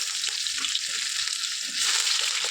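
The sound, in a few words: onion, cinnamon, cloves and cardamom frying in hot oil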